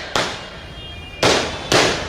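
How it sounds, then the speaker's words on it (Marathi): Victory firecrackers go off near a political rally at Indira Nagar Naka in Thane: three sharp, loud bangs, two of them close together near the end, each with a brief crackling tail over a low background. "हे बोलतायत विजयाची फटाके आहे"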